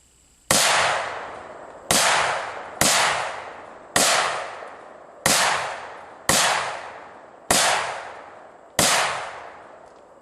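Eight sharp, loud gunshots from an ATI Omni Hybrid AR-15 rifle ring out at a slow, uneven pace, each a crisp crack trailing off into a short echo, with no talking between them.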